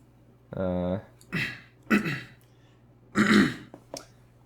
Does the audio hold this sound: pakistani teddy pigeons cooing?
no